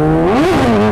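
Kawasaki ZX600 600cc sport motorcycle engine revving hard, a loud, close, continuous roar whose pitch climbs to a peak and then falls back, heard alone without talk.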